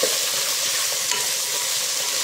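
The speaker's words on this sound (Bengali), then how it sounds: "এর মধ্যে দিয়ে নিয়েছি আমি কেটে রাখা পেঁয়াজ, লম্বা লম্বা করে কেটে রেখেছিলাম। এটাকে আমি ভালো করে নেড়ে নেবো।" Long-sliced onions with pumpkin fry in a hot pan, a loud continuous sizzle with a faint scrape of a spoon stirring through it.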